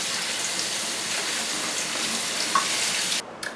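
Fingerling potatoes are rinsed by hand under running tap water, a steady close rush of water that stops just before the end.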